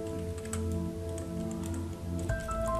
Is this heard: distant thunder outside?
no